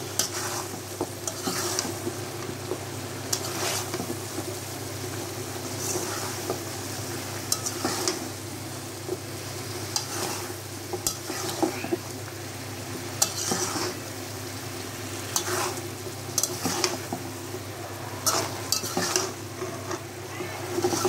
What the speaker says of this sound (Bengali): লতিটা নাড়া দিব।